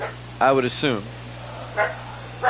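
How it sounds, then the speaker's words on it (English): A pet dog barks indoors at home, giving a couple of high, yelping barks close by and then fainter yips, with a person talking over and between them. "That's my dog barking."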